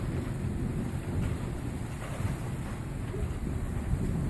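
Thunder rolls through a lightning storm in Idaho Falls as a steady, deep rumble with low, booming swells, sounding close and filling the whole stretch without pause.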